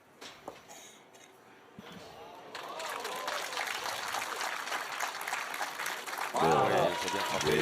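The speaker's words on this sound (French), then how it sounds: "les applaudissements" Spectators applauding at a pétanque Masters semi-final in Ruoms, the clapping starting quietly and swelling into steady, fairly distant applause under a commentator's voice.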